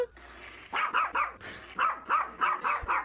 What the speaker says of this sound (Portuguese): Daqui a pouco a Morena vai latir ouvindo esse cachorro.